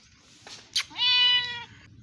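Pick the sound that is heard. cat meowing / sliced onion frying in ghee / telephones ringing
cat meowing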